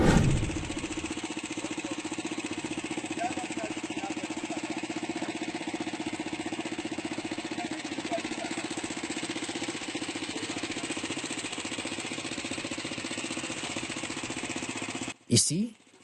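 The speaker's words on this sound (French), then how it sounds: "munit son engin d'un moteur très archaïque" A very archaic engine on a homemade African aircraft runs at a steady, loud, rough drone for about fifteen seconds, then cuts off abruptly. A brief burst follows at the end.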